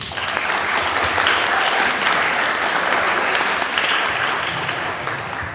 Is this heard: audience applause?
yes